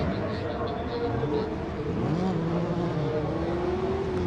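Race cars taking off on a circuit at a regional racing festival, high-revving engines whining and climbing in pitch at a distance, with a voice talking over them.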